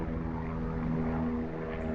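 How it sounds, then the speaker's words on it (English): A propeller airplane drones steadily overhead outdoors by a shore fishing spot, a continuous low hum with no breaks for the whole moment. "Apologies about the airplane."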